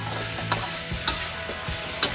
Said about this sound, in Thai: ต้องการให้พริกมันสุกนะครับไม่ต้องผัดนานมาก